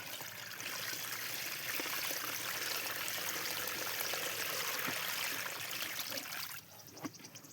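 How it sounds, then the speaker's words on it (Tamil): Water is poured slowly and steadily into a lotus tuber planting container as a continuous trickling rush, then it drops away near the end, leaving a quieter tail. "தண்ணி பொறுமையாக இந்த மாதிரி ஃபுல்லாக ஆட் பண்ணிக்கணும்"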